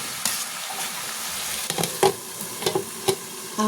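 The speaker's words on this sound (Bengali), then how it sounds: "আমি তরকারিটা আরও ভালো করে একটু কষিয়ে নেব।" Vegetable curry with green peas stir-fried in a pan: a steady sizzle runs under scraping spoon strokes and a few sharp clinks against the pan, close and moderately loud, with no voices.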